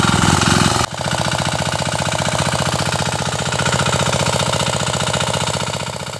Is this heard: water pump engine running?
yes